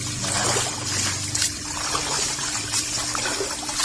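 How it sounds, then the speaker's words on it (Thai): Snails being rinsed in water, a continuous splashing and trickling wash with sloshing swirls, fairly loud and close, without speech. "ล้างซักน้ำสองน้ำเพื่อความเปียนะฮะ"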